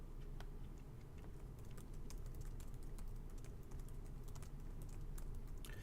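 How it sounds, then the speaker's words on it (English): Soft, rapid clicking and typing on a computer keyboard, with steady quiet keystrokes in an otherwise silent room. "Now you'll notice I'm just clicking and typing"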